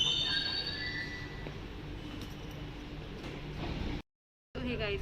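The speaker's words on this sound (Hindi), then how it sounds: "अभी हम लोग आ गए मेट्रो में" A steady rumbling hum of a moving Dubai Metro train with faint squeals and rattles fills the background, briefly dropping out before resuming.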